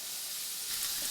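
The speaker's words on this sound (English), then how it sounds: "Allow it to sizzle and cook to the slowest possible temperature." Pineapple sizzles steadily in a hot cast iron pan with oil, a bright continuous hiss of frying with no voices.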